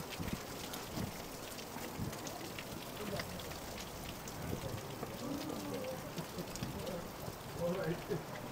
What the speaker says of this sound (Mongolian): Яа бороо.